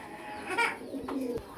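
A brooding pigeon sitting on its egg at a breeding farm gives a couple of soft, close coos, short and throaty, with no talk over them.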